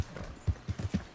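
A horse gallops in the video game Red Dead Redemption 2, its hooves thudding in quick close uneven beats of about four or five strikes.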